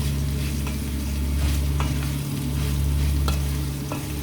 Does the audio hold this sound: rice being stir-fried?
yes